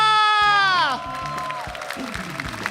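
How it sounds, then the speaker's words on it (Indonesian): A studio audience at a televised stand-up comedy competition applauds judge Raditya Dika: a loud, drawn-out voice opens, then lighter clapping and crowd murmur follow. "Boleh tepuk tangan yang pertama buat Bang Raditya Dika"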